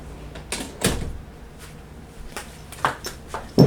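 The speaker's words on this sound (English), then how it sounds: "let me close the door" An indoor door swings and clicks shut at home, with a soft thump early on, scattered bumps and rattles, then a sharper latch knock at the end, fairly close and without talk.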